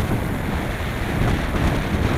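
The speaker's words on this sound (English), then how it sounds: "See how windy it is?" Strong wind buffeting outdoors during a flight test of an MJX Bugs 3 Pro brushless GPS camera drone, a loud continuous roar of gusts and rumble battering the microphone with no pauses.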